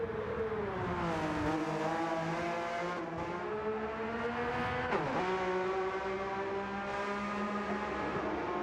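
Porsche Cup race cars in a pro/am round run down the back straight toward the chicane, a loud sustained engine drone whose pitch climbs and dips as the drivers shift, with brief changes as the cars brake.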